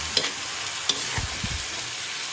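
Food sizzles and fries in a pan while a utensil stirs and scrapes, with a couple of sharp clinks and short scraping strokes over a steady hiss.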